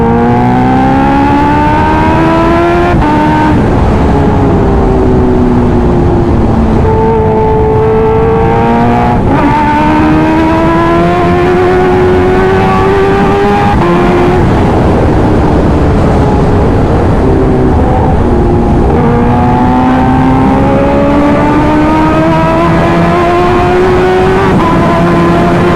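Kawasaki H2R motorbike engine pulling steadily under riding load, harmonic whine climbing and dropping through gear changes as speed builds, loud and continuous throughout with no talking.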